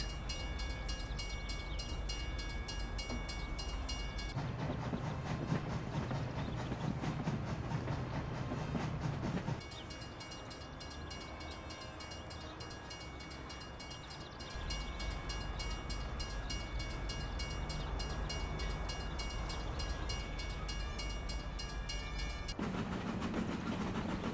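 In the Mafia video game, a heavy train rushes through a railroad crossing. A loud, steady rumble with rattling wheels and a high ringing tone lasts throughout, dipping briefly in the middle before surging back.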